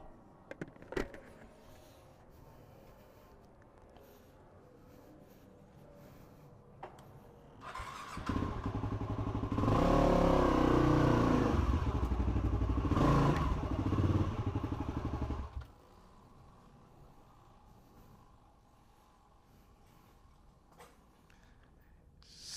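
A Yamaha WR250R enduro converted to supermoto revs up loudly in a workshop basecamp, rising to a sustained roar for several seconds before dropping back to a quiet idle.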